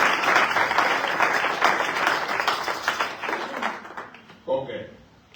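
A church congregation at a weekly service applauds loudly and steadily for about four seconds, then the clapping fades out, with a short voice near the end.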